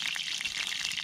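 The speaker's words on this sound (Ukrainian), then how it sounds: "Жаримо яєчню." Eggs fry in hot oil in a pan that also holds water, with onion, cooked outdoors on a February fishing trip by the Teteriv river; a dense, close crackling sizzle with rapid popping and spitting runs throughout.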